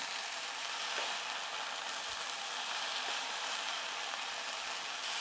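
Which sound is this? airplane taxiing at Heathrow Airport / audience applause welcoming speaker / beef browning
beef browning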